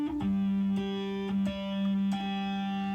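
Natural harmonics picked on a three-string cigar box guitar, a few bell-like chiming notes struck every half second or so over a sustained low drone, close and fairly quiet, no voices.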